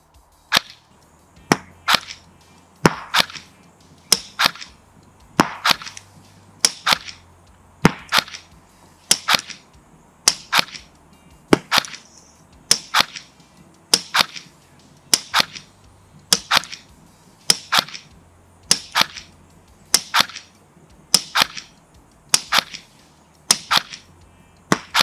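CYMA CM.131 airsoft gun fires single shots outdoors at 30 metres, sharp crisp snaps repeating at a steady, regular pace of about one per second across the whole stretch, with no talk.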